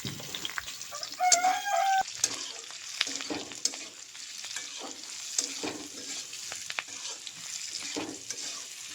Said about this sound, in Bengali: পেঁয়াজটা দিয়ে দিলাম পেঁয়াজটা হালকা করে একটুখানি ভাজা ভাজা হয়ে যাবে